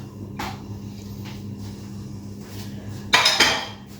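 A spoon stirs fresh coriander into a pot of homemade Sri Lankan chicken curry, giving a few soft scrapes and then a louder burst of metal clinking against the pan near the end.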